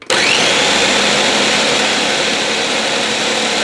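An empty Ninja Professional 1000 blender motor starts abruptly and runs at full speed, a loud, steady high-pitched whir with no contents churning.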